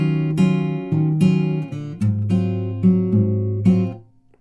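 Fingerpicked guitar plays a song, a close, clear run of plucked notes in a steady rhythm over about four seconds, ringing out at the end with no voice.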